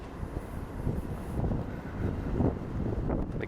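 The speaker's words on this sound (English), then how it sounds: "A little bit windy." Steady wind buffets the microphone beside open water on a quiet morning, a broad rushing noise that swells and gusts unevenly throughout, with no voices.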